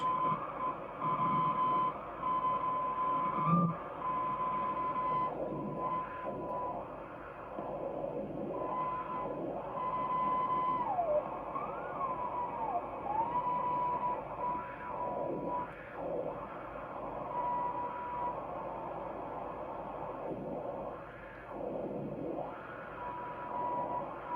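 An amateur radio station calling CQ in Morse code, received on a Hammarlund HQ-100 radio: a faint steady tone keys on and off in short dots and dashes, buried in hissing, fluttering radio static.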